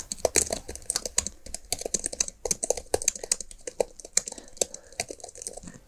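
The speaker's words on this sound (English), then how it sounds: "It's just really good to type on." Fingers type quickly on the keyboard of a Dell XPS laptop, producing a dense, close run of crisp key clacks in uneven bursts with no talking.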